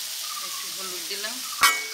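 Oil sizzling steadily in a pan as turmeric goes into a potato and paneer curry with boiled potatoes, cumin and ginger, with a sharp clink of a utensil near the end, close and continuous.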